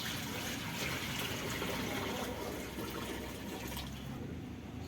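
Water being poured into a pot beside a mud stove, one litre going in as a steady, close rushing pour that fills the whole stretch without a break.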